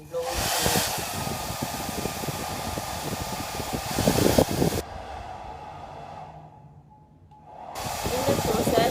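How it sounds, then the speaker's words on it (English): A hair dryer blows hot air onto a homemade USB cable protector, making a loud, steady rushing roar that cuts off for a few seconds and then starts up again. "use your hair dryer and blow it"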